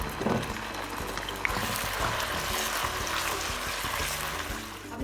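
Onion paste hitting hot cooking oil in a pan, a steady crackling sizzle with bubbling and occasional stirring, moderately quiet and without speech.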